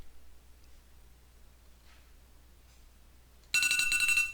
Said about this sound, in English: And there goes my timer